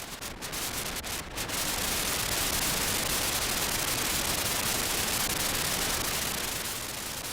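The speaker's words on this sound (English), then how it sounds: "The flutter knob adjusts the volume of the hiss introduced by the noise toggle." Tape-style hiss from a Generation Loss MKII pedal's noise toggle, a steady, loud, broadband static wash with a couple of faint flutters at the very start.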